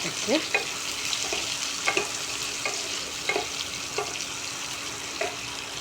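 Chopped onions and green chilli sizzle in hot oil in a pan, a steady close crackle with repeated stirring scrapes every half second or so, no voices.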